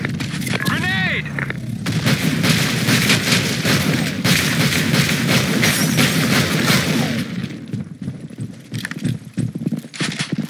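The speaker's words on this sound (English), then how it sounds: "Fire in the hole. Grenade." A video game firefight: a grenade blast followed by dense, loud rapid gunfire and heavy booms that carry on for several seconds before thinning out into scattered shots.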